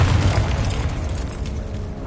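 A Confringo fire-spell blast in Hogwarts Legacy, one loud booming burst that starts at full strength and rolls off slowly into a fading rumble, with no talking over it.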